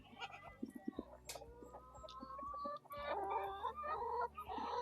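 Chickens cluck and murmur nearby in short, overlapping calls, a busy flock sound at moderate volume with no talking.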